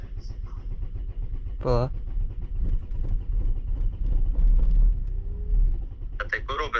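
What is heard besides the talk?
Audi car engine starting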